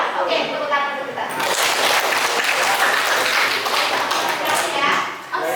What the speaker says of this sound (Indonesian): oke, tepuk tangan dulu kita.